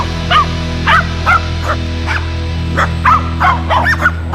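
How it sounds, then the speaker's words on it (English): Dogs bark in short, yappy bursts, about ten barks in irregular clusters over a steady low hum of background noise. "there's a little bit of barking dogs"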